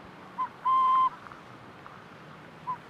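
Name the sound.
burrowing owl call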